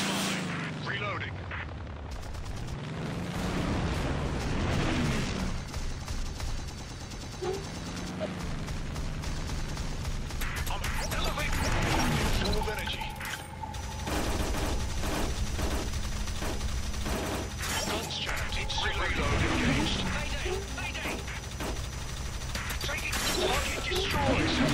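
Heavy machine-gun fire from aircraft in the air-combat game War Wings, flying a La-9, continuous rattling bursts over a steady engine drone, with voices talking throughout.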